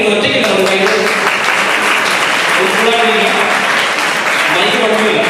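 Audience in a school hall at an all-Kerala inter-school quiz festival breaking into loud, sustained applause, dense clapping holding steady throughout.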